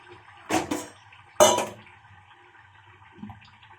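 Potatoes dropped into a pot of chicken curry: two loud splashy clatters close together, then quiet simmering and a faint knock near the end.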